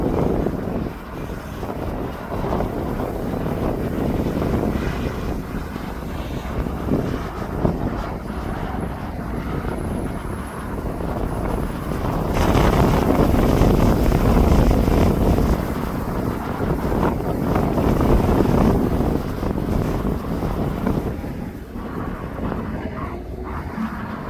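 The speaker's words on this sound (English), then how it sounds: "Now that Ryanair is now taxiing onto the runway." A Ryanair airliner taxis onto the runway at East Midlands Airport, its distant jet rumble building midway and then easing, with gusts of wind buffeting the microphone throughout.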